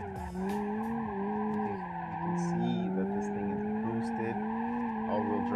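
A car engine drones steadily with rising and falling pitch, joined by brief tire squeals, like a driving game, loud and continuous.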